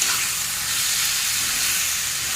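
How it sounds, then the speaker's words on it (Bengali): Mashed cauliflower stir-frying in a pan on a lowered gas flame gives a steady, close, even sizzling hiss with faint stirring underneath, no voices. "এইভাবেই নাড়াচাড়া দিয়ে দিয়ে একটু ভাজা ভাজা করে নেব।"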